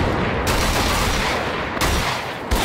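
Double-barreled shotgun blasts in Wolfenstein: The Old Blood, two or three heavy booming shots spaced a second or so apart over a loud, constant backdrop of game noise.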